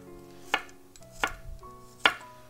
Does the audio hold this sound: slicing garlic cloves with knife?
yes